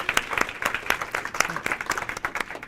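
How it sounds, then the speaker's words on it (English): An audience claps together in a dense, steady burst of applause, close and fairly loud, with a voice faintly beneath it. "Well, all right, let's applaud all of you for that."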